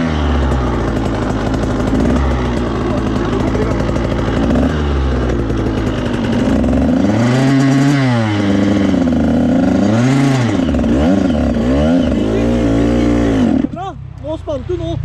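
A dirt motorcycle engine revs on a forest trail in Jevnaker, Norway, its pitch climbing and falling in repeated surges under a man's close, continuous talking, then dropping away near the end.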